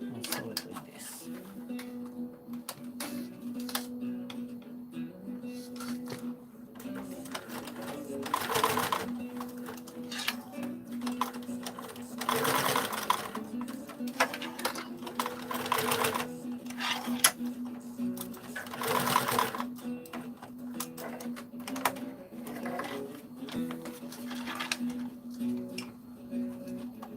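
Sewing machine stitching fabric in bursts of rapid rhythmic clatter, stopping and restarting several times, with a person speaking softly between runs.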